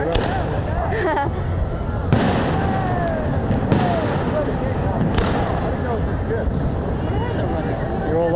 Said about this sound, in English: they have to watch the fireworks